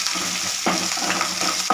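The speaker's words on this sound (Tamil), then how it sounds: "இது நல்லா பொன்னிறம் ஆகிற வரைக்கும் வதக்கலாம்." Steady frying sizzle of onions and chillies sautéing in a pan for sambar, with scraping stirs of a spatula, a few sharper knocks near the middle and end, no voices.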